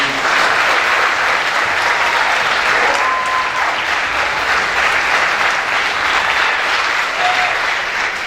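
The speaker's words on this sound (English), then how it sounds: "Can I get a round of applause for Mr. Salter?" A large audience applauds a presenter at a school event, with dense, steady clapping that stays loud and unbroken from start to finish.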